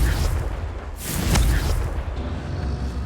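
A Confringo blasting curse explodes in the Hogwarts Legacy video game, a single booming burst in the middle of a dense, rumbling battle soundscape, with no talk.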